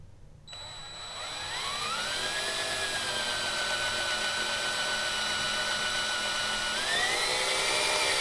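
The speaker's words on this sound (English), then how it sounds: "going to finish drilling these holes" A power drill whirs steadily and close, drilling holes to mount a boat transducer plate, its pitch rising as the motor spins up and staying at a high, continuous whine with a slight shift near the end.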